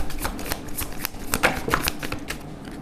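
Tarot cards are shuffled close by in a quick run of crisp riffling flicks and soft slaps lasting a few seconds, with no voice over them.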